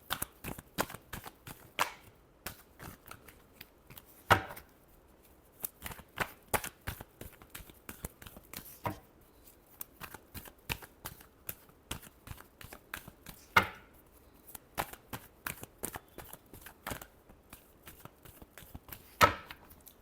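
Tarot cards are shuffled by hand in a steady run of soft, sharp riffling taps and flicks, close and fairly quiet, with occasional louder snaps.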